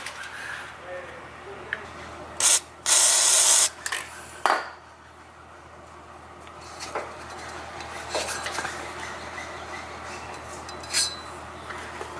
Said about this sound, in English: I'm going to use WD-40 and just let it sit for a bit